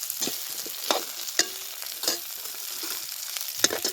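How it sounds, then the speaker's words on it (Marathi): Drumstick pods sautéing in a pan, a soft crackling sizzle with intermittent scrapes and taps of a spatula stirring them, close and fairly quiet, no voices. "असं छान शेंगा परतून घ्यायच्या ह्याच्यात"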